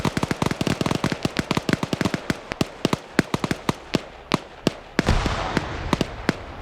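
Rapid gunfire in an Arma 3 PvP tournament match, a dense run of sharp, loud cracks in irregular bursts with a heavier blast and rumble near the end.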